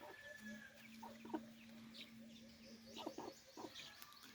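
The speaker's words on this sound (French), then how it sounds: "Il y a une poule ici." A hen clucks among young chicks on a small farm, a few short clucks heard at a moderate distance over steady background hum and scattered farmyard sounds.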